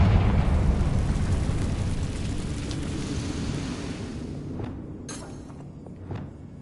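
A Confringo spell explosion in Hogwarts Legacy erupts as a loud, rumbling blast that slowly fades out, with a few sharp crackling pops near the end.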